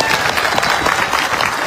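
A large crowd claps steadily and loudly at a Maratha political rally, a dense continuous wash of applause with no voices standing out.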